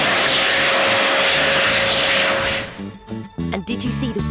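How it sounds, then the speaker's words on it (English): An electric hand dryer blasts hot air in a loud, steady roar that cuts off abruptly partway through, followed by a voice speaking over quieter room sound. "Did you hear the sound the hand dryer made? It was like an aeroplane taking off."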